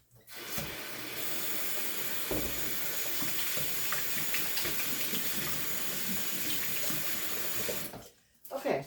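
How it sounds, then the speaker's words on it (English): Tap water runs steadily into a sink as hands are washed, a continuous close splashing rush that stops abruptly near the end. "Let me wash my hands real quick."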